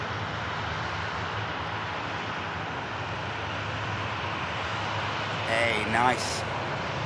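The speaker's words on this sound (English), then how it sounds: "Orini taking off behind the Ryanair here" An airliner takes off behind a Ryanair jet at Manchester Airport, a steady, fairly distant engine roar running continuously underneath. A voice speaks briefly near the end.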